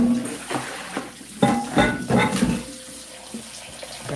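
Kitchen sink tap running as celery is rinsed, splashing water with uneven bursts and clunks of handling, moderately close, no speech.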